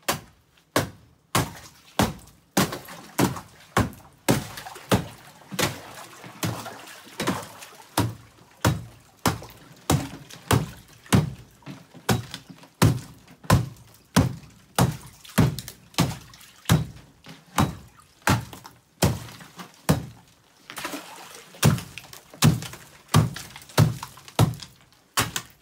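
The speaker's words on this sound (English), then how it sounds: "break up the ice." Ice being broken up in a DIY cold plunge stock tank, a long series of sharp thunks and cracks struck at a steady, roughly even pace, close and distinct, with no talking.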